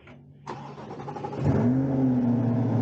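A Corvette C8's 6.2-liter V8 cold-starts with a sharp starter catch, then flares into a loud rising rev before settling into a strong, steady high idle, close up and alone.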